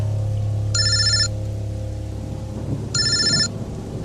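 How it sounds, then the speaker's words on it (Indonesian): Mobile phone ringing in two short electronic bursts of bright trilling tones separated by a pause, heard fairly close over a low background hum with no speech. "aku sedikit terkejut karena suara HP-ku yang tiba-tiba saja berbunyi"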